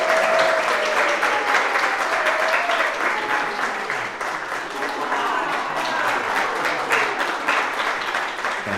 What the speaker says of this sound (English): join me in blessing them with a round of applause